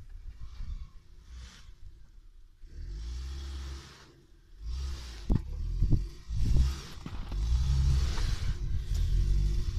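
Subaru car engine revving while reversing through mud and snow, a loud, close rumble that swells and surges with several sharp clattering bursts in the middle.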